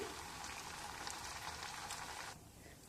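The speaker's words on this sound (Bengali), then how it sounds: "এবার ঘি গরম হয়ে গেলে এর মধ্যে দিয়ে দেব ভাজার জন্য লুচি।" Luchi made from chira and atta fry in hot ghee in a kadai, giving a steady, quiet, hissing sizzle that drops off sharply near the end.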